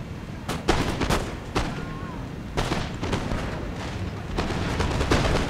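Artillery fire in the strategy game Napoleon: Total War, a battle full of repeated booming cannon shots and scattered gunfire cracks that fall irregularly over a dense, noisy battlefield din.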